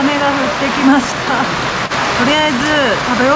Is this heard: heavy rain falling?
yes